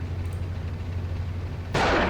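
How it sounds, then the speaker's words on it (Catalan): A tank's own main gun fires in the video game Steel Beasts Pro PE: one loud, sudden blast near the end cuts through a steady low engine rumble. "Aquest soroll que ha estat un tret nostre."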